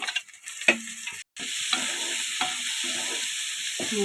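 Tomatoes are stirred into a frying pan of sizzling spices, a spoon scraping in short strokes over a steady sizzle, with one brief silent gap near the start.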